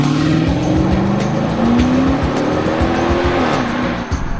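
A 2019 Dodge Charger Pursuit Edition police car drives with a loud, steady engine drone and road and tire noise, the engine note rising and shifting, heard close from inside or beside the car.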